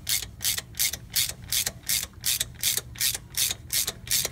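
A screw puller is turned clockwise by hand to draw the harmonic balancer off a 2004 Toyota Sienna with 177k miles. It makes a steady run of about fourteen sharp ratcheting clicks, close and loud, with no talk.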